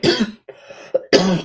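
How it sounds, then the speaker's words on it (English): A person with a cold coughing, two harsh close bursts separated by a quieter throat-clearing rasp, loud and alone without speech. "I got a cold, so I'm gonna cough every now and then"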